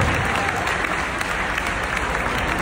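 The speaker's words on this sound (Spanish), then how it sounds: "Apláudale que gritó por ahí." Crowd applause at a religious gathering in Phoenix, a steady dense wash of clapping filling the space throughout, with some cheering voices mixed in.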